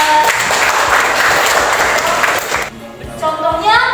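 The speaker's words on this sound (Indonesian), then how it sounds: "Beri tepuk tangan buat." A classroom of students breaks into loud, dense applause for a few seconds, then it cuts off and a voice starts talking.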